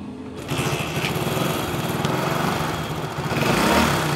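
A repaired motorcycle, fixed for a cam problem, starts up and settles into a close, buzzing running engine that holds steady and swells slightly toward the end, with no talk over it.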